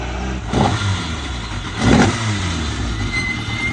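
A rally car engine idles steadily on a rally stage, then revs hard twice in short bursts, the second rise louder, with a gritty edge like spinning tyres.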